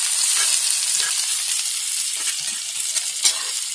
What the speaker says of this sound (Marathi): आता चांगला ऑरेंज कलरचा होईपर्यंत आहे ना कांदा परतायचा आहे।